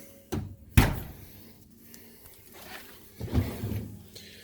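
Pots and pans drawer sliding open and shut beneath the oven in a brand new 2019 Sierra 399LOFT RV kitchen, with a sharp thud, rattling slide and a second softer knock.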